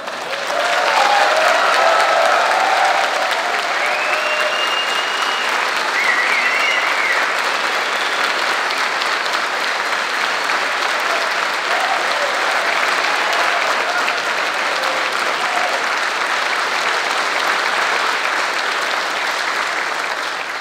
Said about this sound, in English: were you applauding for someone in particular?